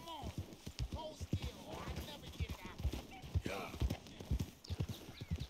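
Horse hooves clip-clop in a quick, uneven rhythm in Red Dead Redemption 2, with a brief whinny, close and moderately loud while someone talks over them.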